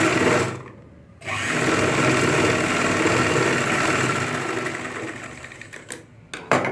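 An electric sewing machine stitches ladies' pants, whirring in a steady, loud mechanical run after a short pause near the start, then slowing toward the end.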